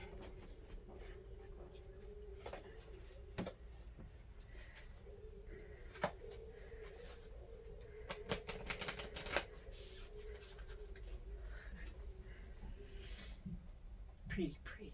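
A deck of cards is shuffled in quiet riffling clicks and flutters, busiest in a dense run near the middle, over a steady low hum.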